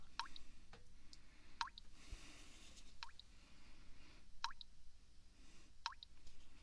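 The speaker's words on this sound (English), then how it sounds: "Water drops." Water drips at a slow, steady pace, single drops plinking roughly every second and a half against a faint background hiss.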